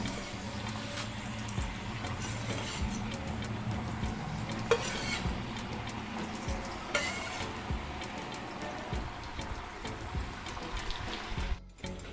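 Sakinalu rice snacks fry in hot oil, a continuous low sizzle with scattered stirring scrapes and light clinks of utensils, ending with a brief rustle.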